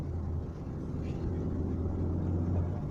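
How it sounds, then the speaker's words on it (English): A Landwind car engine running, a steady low rumbling drone heard from inside the moving vehicle, fairly loud and unchanging throughout. "I love the sound. I'll buy this car just for the sound."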